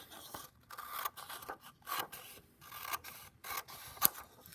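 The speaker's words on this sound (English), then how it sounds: "I'm going to go ahead and cut that piece off" Scissors cutting a piece off a sheet of paper, a series of short crisp snips and scraping strokes close by, with a sharper snip near the end.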